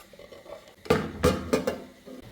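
A freshly made rice evening snack is flipped out of its pan onto a plate: a few sharp clattering knocks of metal and crockery, close by, with quiet pauses between.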